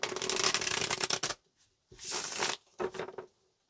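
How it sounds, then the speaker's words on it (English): Tarot cards being shuffled in three quick riffling bursts, the first longest, with brief silent pauses between them. "Let's get this last shuffle"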